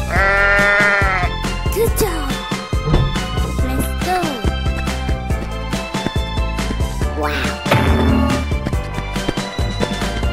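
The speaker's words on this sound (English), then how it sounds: "Sheep." A cartoon sheep bleats a couple of times, at the start and again near the end, over lively, busy background music.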